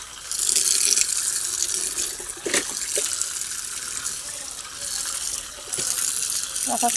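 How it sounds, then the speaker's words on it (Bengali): Rinse water pours and drains from a large washed blanket, a steady splashing gush close by that briefly slackens before flowing on. "দেখো জল কি সুন্দর পড়ছে"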